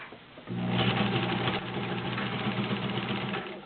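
A vintage Kenmore model 1803 sewing machine zigzag stitches through three layers of leather. A brief quiet start gives way to a loud, steady, rapid mechanical whirring that runs alone to the end.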